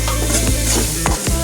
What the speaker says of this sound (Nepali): मजाले चलाउँ।